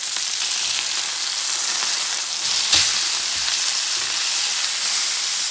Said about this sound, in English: So I cook this thigh for 3 minutes. What I'm going to do is I'm going to flip it.